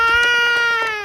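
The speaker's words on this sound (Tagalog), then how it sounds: "naiyak na siya" A young child cries on a walk along a road near home, a sustained high-pitched wail with small sobbing pulses, loud and close, heard without talking over it.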